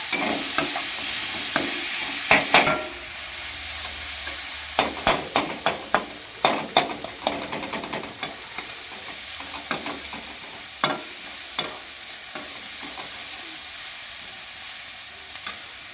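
Drumstick leaves sautéing with salt in a pan for a Tamil Nadu–style poriyal, a steady sizzle broken by a run of sharp, close spatula taps and scrapes against the pan.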